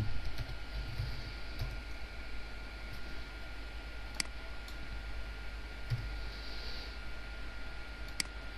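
Someone types a title on a computer keyboard: sparse, soft key clicks with a few sharper taps spread over a steady background hiss, no voices.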